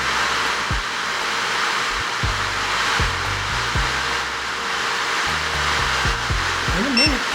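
An AIRSEE nail dust collector fan runs close and steady with a loud, even whooshing hum throughout, while faint clicks and tones sound from its buttons and a person talks briefly.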